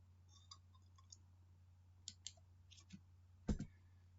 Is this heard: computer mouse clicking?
yes